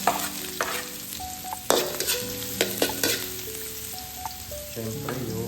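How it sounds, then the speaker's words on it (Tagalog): Ginger and garlic being sautéed in a pan for beef pinapaitan, with a steady sizzle broken by clanks and scrapes of a spatula stirring, plus faint tonal beeps in the background. "magigisa na po tayo. Lalagyan na natin ng luya"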